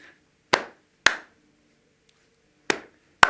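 Four crisp hand claps spaced in an uneven rhythm, two close together, a pause, then two more, loud and near at a schools concert.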